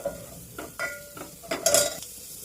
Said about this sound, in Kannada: ಎಣ್ಣೆಯಲ್ಲಿ ಸ್ವಲ್ಪ ಈ ಥರ ಫ್ರೈ ಮಾಡ್ಕೋಬೇಕು